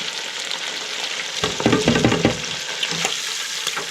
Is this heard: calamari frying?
yes